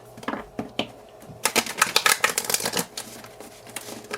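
Playing cards shuffled by hand during a crystal-reading session, a few soft riffles early then a dense, crackling burst of riffling card flutter in the middle, close and fairly loud, with no talking.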